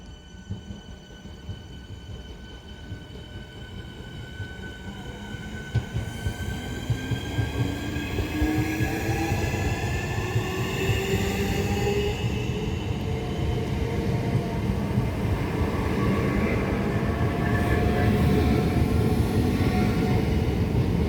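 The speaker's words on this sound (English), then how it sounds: "the slightly delayed 1000 Southeastern service from Tunbridge Wells to London Charing Cross. Being led by 465029" Southeastern Class 465 electric train 465029 departing Tonbridge station, a steady rising electric motor whine with rumbling wheels and faint squeal, growing louder as it pulls away, no talk.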